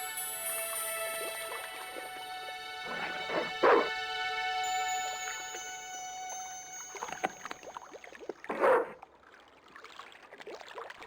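Dog in the video game Broken Sword 2 gives two short yelping barks, several seconds apart, over quiet tonal game music.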